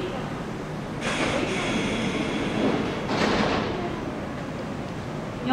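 A Kintetsu 5209 series electric train, out of service after inspection, rolls past a station platform nearby with a rising whoosh and rumble, two louder surges a couple of seconds apart, no talking.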